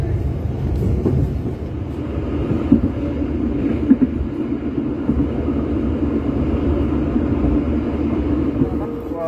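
Steady low rumble and rattle of a moving Sri Tanjung passenger train carriage in Indonesia, with occasional soft clanks throughout.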